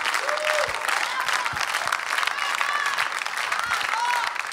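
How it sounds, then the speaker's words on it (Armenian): Studio audience applause at a TV talent show gala, steady close clapping from a crowd throughout, with a few faint tonal sounds above it. "ծափահարություններ"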